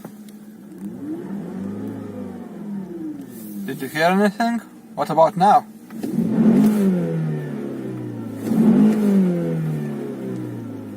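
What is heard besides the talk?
Volkswagen Passat W8 engine revving on throttle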